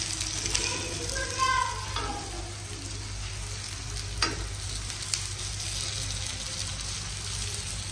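Paratha frying in oil on a hot pan gives a steady, close sizzle with soft crackling throughout, broken by a few brief clinks and scrapes of a utensil.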